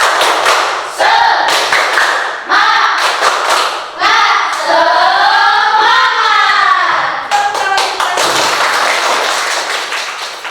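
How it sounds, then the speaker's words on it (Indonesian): A classroom of students performs the rhythmic 'tepuk semangat' spirit clap, loud patterned bursts of hand claps in set groupings, with the class chanting along between and over the clapping. "kita coba dulu tepuk semangat"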